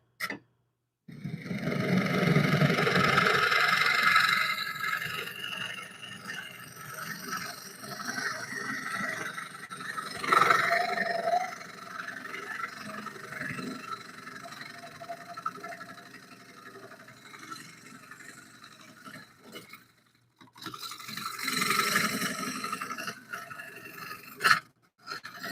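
A carbide tool scrapes the inside of a bowl spinning on a wood lathe, a rough, shifting hiss that rises and fades in long bursts with brief pauses, loud and close with no speech.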